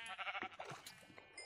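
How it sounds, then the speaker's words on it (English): Sheep bleating in the Minecraft video game, a short wavering cry near the start followed by quieter scattered game sounds. "I'm going to kill the sheep"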